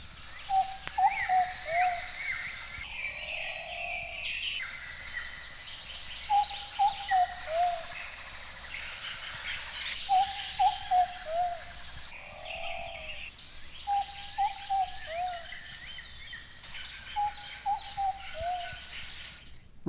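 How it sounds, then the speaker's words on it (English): In a humid rainforest, the short-billed pigeon repeats a plaintive, soft hooting song phrase about every three to four seconds with low purring notes between, set against a constant high chorus of insects and other birds. "One of the most characteristic sounds of the rainforest is the plaintive song and purr of the short-billed pigeon"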